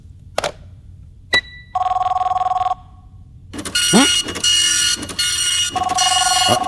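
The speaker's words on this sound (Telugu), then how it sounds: "అది ఫోన్ కాదు, ఫ్యాక్స్" An office fax machine going off in a short burst of electronic ringing, then a harsh, buzzing multi-tone warble that repeats in pulses, loud and close.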